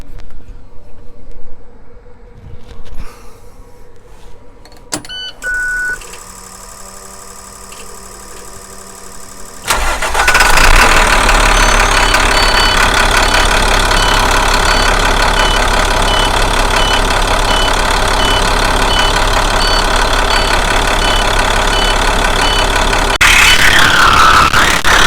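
A 2014 CE bus engine with an exhaust brake leak cranks and starts about halfway through, then settles into a loud, steady diesel idle that runs close and uninterrupted to the end, after quieter shop clatter and handling noises.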